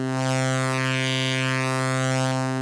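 A pure sine wave from an ASM Hydrasynth synthesizer, warped by its mutant modulation, sounds alone as a steady, loud tone rich in stacked harmonics, with a shimmering upper band that swells and fades across the note.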